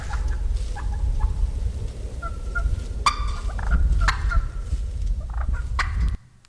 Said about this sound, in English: So that's obviously more than one turkey making those noises, but those are clucks and purrs.